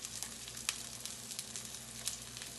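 Salmon patties frying in oil in a pan, a steady close sizzle with small crackling pops and brief spatters throughout, no voices.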